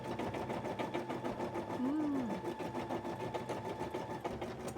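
An embroidery sewing machine working on a cosplay piece, running with a fast, steady mechanical stitching rhythm close to the mic, joined by a brief whirring tone partway through.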